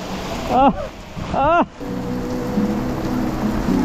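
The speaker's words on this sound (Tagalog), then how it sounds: "Grabe yung ulan." Heavy rain pouring down at night outdoors, a steady dense hiss and rush that fills the scene, with a person's voice heard briefly over it at the start.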